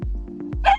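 A dog at an off-leash dog park gives a couple of short, close barks and a brief higher yip in under a second.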